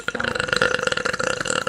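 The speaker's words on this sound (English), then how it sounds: "All of this video is just burping noises from you." A long, loud, gurgling human burp, made by a player in voice chat during a game of Rust, rolls on in a rapid pulsing rhythm for nearly two seconds, close to the microphone.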